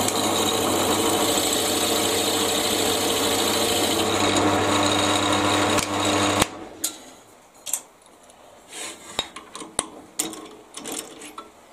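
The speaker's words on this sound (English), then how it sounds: "when you're using Forstner bits, always do the biggest one first and gradually get smaller" A power drill with a Forstner bit whirs steadily through wood for several seconds, then stops abruptly, followed by scattered knocks and scraping sounds close by.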